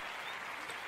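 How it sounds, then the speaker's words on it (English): A small group applauding around a table, a brief close burst of steady clapping. "Just straight up fucking applause"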